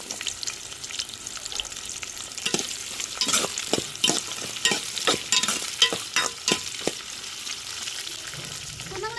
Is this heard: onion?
yes